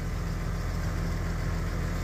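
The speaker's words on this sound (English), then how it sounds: "I don't know how long she's gonna be able to handle riding in this big blue tractor with me." A big blue tractor running while baling heavy alfalfa, a loud steady low rumble that holds constant from inside the cab.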